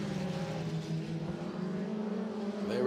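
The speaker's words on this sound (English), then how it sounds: "There is the Mick Schumacher car number 25." A race car passes on the Nürburgring circuit during a 2017 season race, its engine drone steady and fairly faint before swelling louder as it nears at the end.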